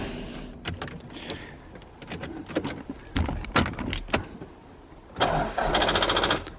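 In a yellow project car with a weak battery, scattered clunks and clicks lead into a short, strained burst of engine cranking near the end, heard close and with no talking.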